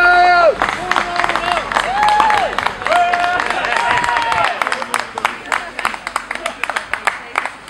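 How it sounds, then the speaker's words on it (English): A crowd outdoors breaks into applause and cheering, dense clapping that builds and carries on under loud voices and chatter nearby. "Guys, round of applause there."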